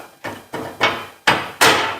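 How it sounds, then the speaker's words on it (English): Four sharp hammer blows from a hand hammer striking a steel gas tank cross member from a 1978 Ford while fitting it to a 2011 Super Duty, evenly spaced with ringing decay, close and loud. "Use my hand hammer here."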